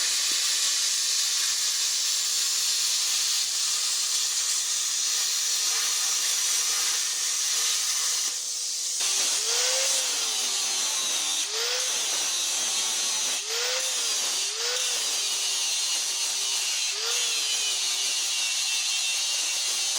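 A power tool cutting out a gusset tube on a Land Cruiser during a rear 4-link conversion: a loud, continuous high-pitched grinding hiss that runs throughout, with several short rising whines as the blade bites into the metal.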